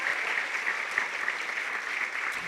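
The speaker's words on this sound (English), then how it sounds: "Give them one nice more round of applause." An audience at a kindergarten musical claps in a steady, dense round of applause, fairly loud and continuous with no talking over it.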